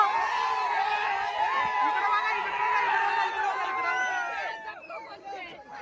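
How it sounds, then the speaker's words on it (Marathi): A large crowd at a village wrestling ground in Pusegaon cheers and chatters in a busy, sustained hubbub, with many overlapping voices and shouts close by, with someone talking over it. "चला मित्रांनो, ही गर्दी बघा, तुम्हाला दाखवतो. आपला मथुर गडपात झालेला आहे. यो जल्लोष बघू शकता मित्रांनो"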